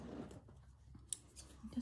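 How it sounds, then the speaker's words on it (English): Faint, quiet snips of fabric scissors cutting small tabs of Czech fabric during handmade journal crafting, a few soft clicks scattered across a hushed background. "I'm just going to cut."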